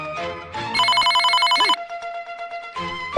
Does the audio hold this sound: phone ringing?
yes